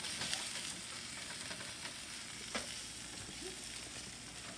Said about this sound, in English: now you're cooking with the actual marinade on each of the pieces of tofu